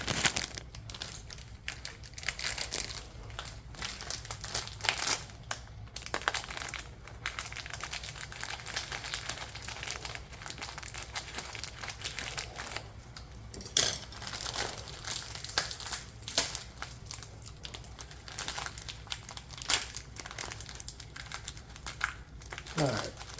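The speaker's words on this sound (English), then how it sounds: "I'm gonna cut the pasta open." Pasta packaging crinkles and crackles continuously as it is cut open with scissors, a dense stream of close plastic rustling with a voice talking faintly at times.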